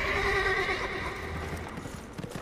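A horse in the video game Metal Gear Solid: Peace Walker whinnies in a long, wavering neigh, close and clear, with soft hoof clip-clops and game ambience following.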